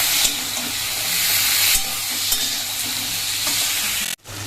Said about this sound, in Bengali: আলু বেগুন সব কিছু ভাজা হয়ে গেছে